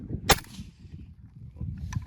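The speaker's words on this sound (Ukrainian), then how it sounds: "можемо в землю ще вистріл зробити і послухати, наскільки воно все працює" A suppressed AK-74 rifle fires a single shot into the ground nearby, a sharp crack followed by quiet rustling and a faint second click.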